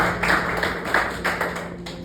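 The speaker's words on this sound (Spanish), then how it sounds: "Dale un aplauso al Señor." A church congregation claps together, producing a few loose bursts of hand claps over a low steady hum in the room, with the rhythm uneven and moderately loud.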